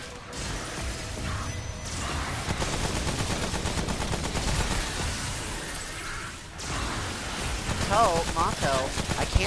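Gunfire crackles in the video game Remnant: From the Ashes: bursts of rapid shots and shattering impacts fill the clip beneath a player's talk, with chirping effects near the end.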